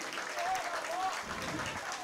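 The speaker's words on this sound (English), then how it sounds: "They're giving a round of applause to our guy, Ray Rodriguez." Spectators at a middle school football game between Thibodaux and Golden Meadow applaud as an injured player is wheeled off. Steady, moderately distant crowd clapping runs throughout while a commentator talks over it.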